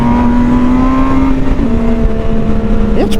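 MV Agusta Brutale 1000 motorcycle engine droning steadily at high revs, loud and close, with a sharp rising rev near the end.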